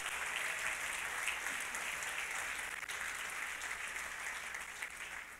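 Church congregation applauding during a Christian service, a dense, sustained sheet of clapping from many hands that holds steady and fades slightly toward the end, heard at a distance.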